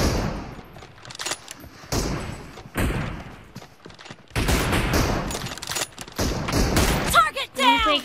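Rapid gunfire bursts and thumps from a shooting video game come in choppy, repeated volleys, some loud and close, with a player talking excitedly over the action.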